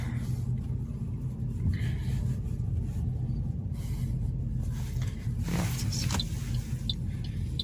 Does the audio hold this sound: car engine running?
yes